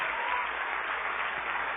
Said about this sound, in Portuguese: Vem aqui para frente, vamos aplaudir mais o Senhor Jesus